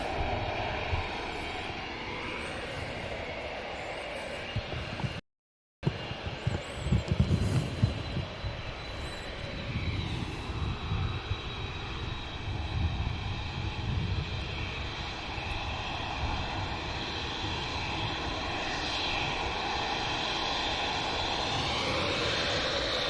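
An Etihad airliner taxis at Manchester Airport with a continuous jet engine hum and low throbbing rumble. A brief dropout interrupts it before it resumes at a similar moderate level, and no one speaks.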